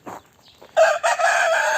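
A Ligorin rooster crows once, close and loud, a sustained strained call following a short cluck and some quiet background noise.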